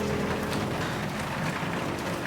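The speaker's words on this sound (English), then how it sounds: "Pouring rain," Heavy rain pours steadily on a film set during a night shoot, a dense, unbroken wash of close drops with no talk over it.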